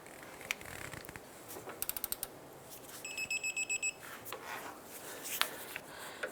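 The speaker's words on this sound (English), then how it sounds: "Let's get and torque this down to 39 foot-pounds." Faint clicking ratchet and mechanical ticks from a torque wrench tightening an inner tie rod on a 2011-2019 Ford Fiesta, with a short run of rapid clicks and scattered metallic taps in a quiet workshop.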